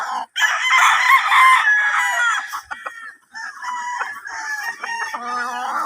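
Fighting roosters on a farm crow and cluck near and loud at feeding time, overlapping long crows with a brief lull, then more crowing and clucking from several birds.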